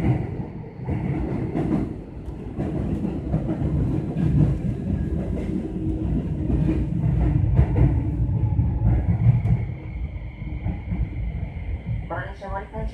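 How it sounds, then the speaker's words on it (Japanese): Keio Liner commuter train running on rails toward Keio-Hachioji, a steady loud rumble with rolling wheel noise throughout and a faint rhythmic clatter near the end. "この列車は折り返し、車庫に入る回送電車となります"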